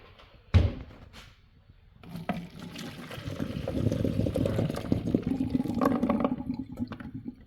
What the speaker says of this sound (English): Nice water color going down the drain.